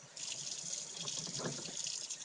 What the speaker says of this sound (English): Turn the water on, like that.